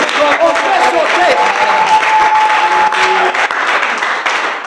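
A church congregation applauds and cheers, dense sustained clapping filling the room with voices calling out over it, while music plays along in the background.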